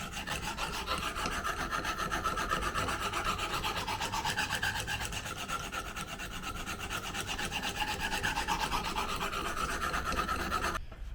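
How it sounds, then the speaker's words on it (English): A knife blade ground steadily on a sharpening stone to form a new bevel, a continuous close rasping scrape with even back-and-forth strokes and no talking. "I've managed to put a new bevel, a new burr completely across the one side"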